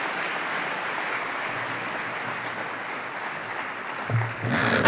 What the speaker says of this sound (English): You can now clap for how amazing they are.